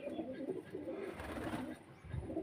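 Pigeons in Karachi, Pakistan, cooing softly and steadily nearby in low repeated murmurs, with no voices heard.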